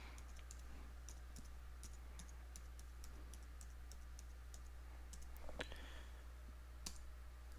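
Password typed on a computer keyboard, a quiet run of light, irregular key clicks with a few sharper taps near the end over a low steady hum.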